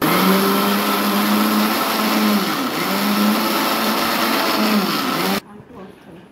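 An electric blender grinds green chilies with water into a paste, a loud, steady whirring drone that runs without a break and then cuts off abruptly near the end.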